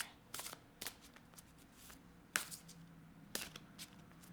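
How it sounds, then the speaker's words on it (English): A deck of oracle cards is shuffled in a few quiet riffling bursts with pauses between, soft and close, with no voices. "Let's give it one more shuffle."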